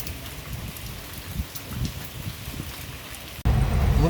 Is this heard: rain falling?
yes